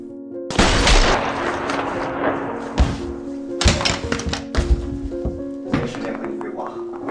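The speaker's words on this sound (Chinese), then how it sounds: "多么悦耳的枪声啊！" Action-film gunshots ring out in a handful of sharp, loud bursts spread across the stretch, each a hard crack followed by brief ringing, set against a constant low drone.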